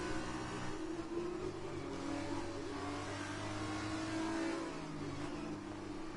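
Formula 2 race car in F1 2020 launching off the line in Australia with wheel spin, a loud continuous high-revving engine whine that holds steady throughout, with no talk over it.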